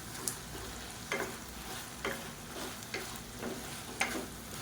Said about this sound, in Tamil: சேர்த்துட்டு லேசாக ஒரு பரட்டிக்கலாம்.